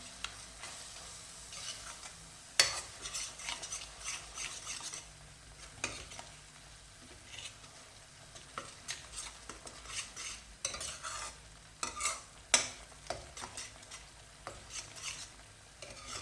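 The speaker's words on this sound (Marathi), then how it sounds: "या पद्धतीनं आपण हा मसाला सगळा चांगला भाजून घ्यायचा आहे." Onion and cashew paste roasting with masala in a pan, quiet stirring scrapes and soft sizzling, with occasional sharper clinks of a spoon against the pan rising above a low, steady fry.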